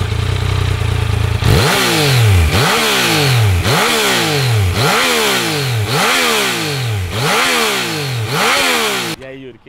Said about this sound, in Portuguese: o barulho de escape original é esse